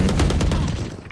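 Rapid bursts of automatic gunfire from the video game Valorant rattle on without pause for about a second, loud and close, with the shots running together into a dense barrage.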